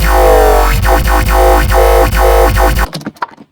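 A heavy, buzzing FM synth dubstep bass on its default setting plays a repeating wobbling pattern with regular rhythmic pulses, loud and upfront, then cuts off into a brief fading tail.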